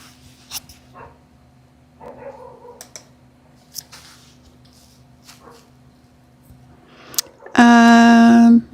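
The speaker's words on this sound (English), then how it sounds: "She's barking and she's distracting me out there." Quiet room noise with faint scattered sounds, then a single loud, close dog bark near the end.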